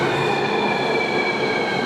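A driverless MRT metro train in Taiwan pulls into the station with a loud, steady rumble and a sustained high electric whine, with no talking over it.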